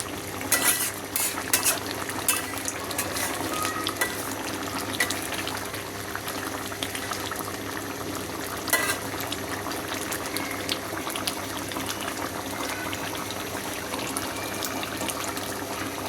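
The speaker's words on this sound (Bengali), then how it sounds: "আজকে আমি সাহারির জন্যে গলদা চিংড়ি মিষ্টি লাউ দিয়ে রান্না করতেছি" Giant freshwater prawns cooking with sweet gourd in a pot, a continuous bubbling sizzle with frequent stirring clatter and scraping throughout, close and steady, with no talking.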